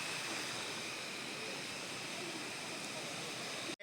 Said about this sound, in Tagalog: Nandito na kami sa pinaka parang man-made falls